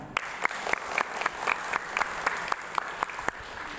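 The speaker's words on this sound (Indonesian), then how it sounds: "Terima kasih untuk Pak Jarod. Mana tepuk tangannya?" An audience at a Catholic scripture coaching session applauds, a brisk patter of separate, sharp claps close by that carries steadily through the short stretch.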